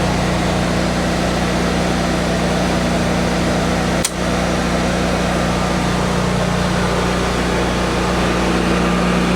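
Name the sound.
Generac 26 kW standby generator engine running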